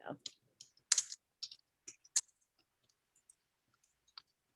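Scattered clicks of keys being typed on a computer keyboard during a library board committee meeting, irregular and close, with brief pauses between bursts.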